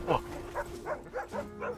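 Sled pack dogs in the video game The Red Lantern bark in a quick run of about six sharp, mid-loud yelps, evenly spaced, with a steady background tone underneath.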